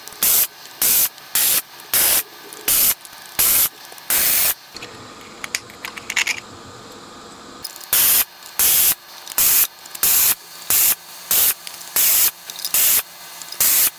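Aerosol spray can with a blocked nozzle, fired in a run of short hissing bursts with brief gaps, a quieter pause in the middle, then more rapid bursts.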